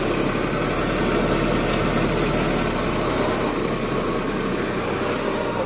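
Farm vehicle engine in a banana plantation, driving between the rows of banana trees, a steady low idling rumble close by that holds constant throughout with no talk.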